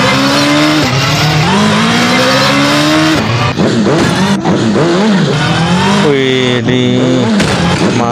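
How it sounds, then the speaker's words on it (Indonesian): Motorcycle stunt sounds from an Upin & Ipin video game, a loud continuous engine drone rising and falling in pitch with repeated revs and tire-squeal-like sweeps, playing steadily throughout without pause. "Atraksi motor Upin."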